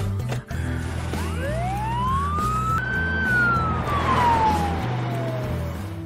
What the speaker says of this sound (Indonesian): Tidak lama kemudian datanglah ambulan yang akan mengangkut mereka.